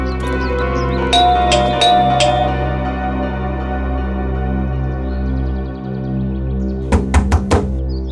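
Knocking on a door inside a house, a few sharp raps near the start and a rapid cluster of knocks near the end, heard over a sustained dramatic music bed.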